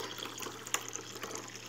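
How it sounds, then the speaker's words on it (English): Cold water poured while making jelly at home, a soft continuous trickle and splash of liquid with a small drip or clink, fairly faint and heard alone. "we need to put a little bit cold water."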